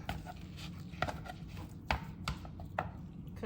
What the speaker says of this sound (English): We're chopping it up. And I like to chop it up pretty fine.